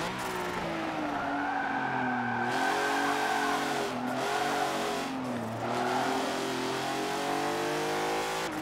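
Rear-wheel-drive race car in Forza Motorsport 7 revs hard with rising and falling engine pitch, rear wheels spinning and tires squealing, a loud continuous engine note with several shifts.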